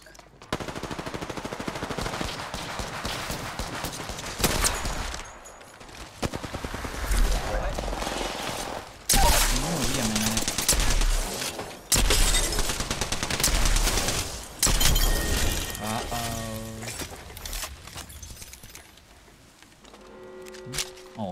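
Rapid automatic gunfire in the battle royale video game Apex Legends, loud bursts of repeated shots with pauses between volleys, mixed with game effects and a player talking over the action.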